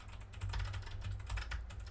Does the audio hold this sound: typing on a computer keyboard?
yes